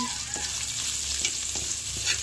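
Garlic and onion sautéing in used frying oil in a pan, a steady loud sizzle with occasional stirring scrapes and no talk over it.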